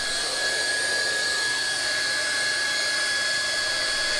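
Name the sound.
hot air welding gun welding vinyl flooring miters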